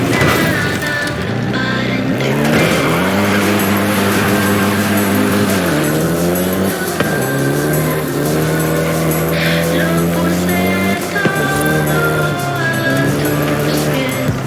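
Volkswagen Golf GTI in the racing game Forza Horizon 5, its engine loud and close as it climbs through the revs, drops on each gear change and pulls again, over a faint tyre hiss.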